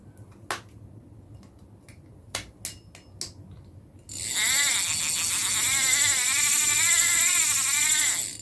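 A Daiwa Garuda fishing reel: a few isolated mechanical clicks, then a loud, fast continuous ratchet buzz as the spool spins for about four seconds before stopping.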